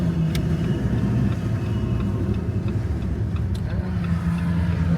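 A Jeep Gladiator rolls along with its engine giving a low, steady rumble, while a few faint ticks and clicks come through over the continuous road drone.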